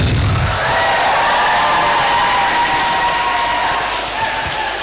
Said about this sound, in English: please, big applause for Dina.